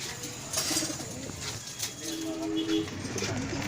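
Racing pigeons coo softly in a loft in the dim early light, a few low murmuring calls mixed with faint chirps and rustling.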